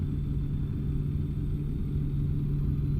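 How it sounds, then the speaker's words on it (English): A truck engine in a truck simulator game drones at a steady idle, a low continuous rumble with an even hum, quiet and unchanging, with no speech over it. "it's the sound of the engine and the visuals and everything"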